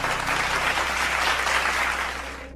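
Dense applause from an audience greeting a talented guest, a steady wash of clapping that tapers off toward the end.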